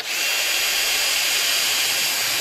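A power drill whines loudly and steadily up close, running without a break.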